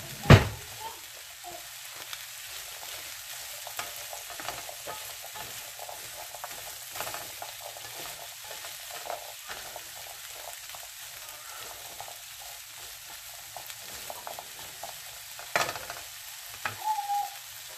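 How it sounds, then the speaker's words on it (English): Cooked vegetables stirred in a pot on a stovetop, a quiet, continuous soft sizzle with faint scrapes and clinks of the spoon and a louder knock at the start, close with no talk. "And we're going to stir it up."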